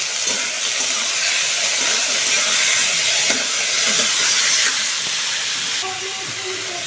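Tomatoes hit hot oil seasoned with panch phoron, giving a steady, loud, bright sizzle and hiss that holds for several seconds before easing slightly, with a faint voice near the end.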